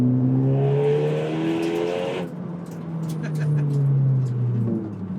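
A loud, raspy Honda Civic Type R (FK8) exhaust with muffler delete and catless downpipe revs high, drops briefly, then climbs again in a harsh, droning roar close by.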